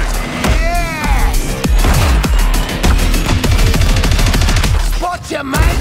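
Rapid gunfire and heavy explosions from a video game battle against a tank, loud and continuous, with shouted voice lines over the shooting.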